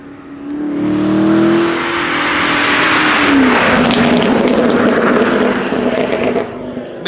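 A tuned car engine roars and revs hard, with a loud sustained drone and crackling popping bursts from the exhaust, while voices talk faintly underneath.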